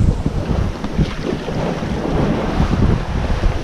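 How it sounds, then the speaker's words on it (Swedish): Strong wind blows over wave crests on the Portuguese coast during big surf, a loud, steady roar and buffeting with the rush of waves beneath it and no voices. "Det blåser väldigt mycket på vågtopparna"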